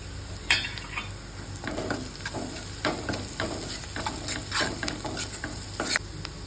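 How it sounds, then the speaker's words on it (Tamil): Fried onions with chili powder and garam masala are stirred in a pan, giving a continuous sizzle and frying hiss with repeated scraping strokes of a spoon, close and steady, without speech. "லேசாக கிண்டி விட்டாச்சு."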